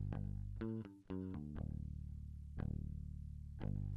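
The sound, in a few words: unprocessed bass guitar track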